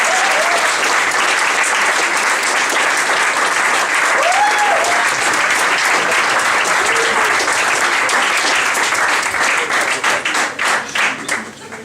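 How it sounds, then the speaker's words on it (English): Loud, sustained audience applause at a comedy show as the next performer is called up, steady dense clapping from a full room that thins into scattered individual claps at the end. "Come on up, big round of applause,"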